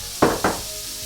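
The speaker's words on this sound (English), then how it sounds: "we're going to add some more bacon grease to the pan, and then we're going to add our onions, peppers, and celery" Onions, peppers and celery dropped into hot bacon grease in a pan, giving two quick sizzling bursts close up that fade into a low hiss.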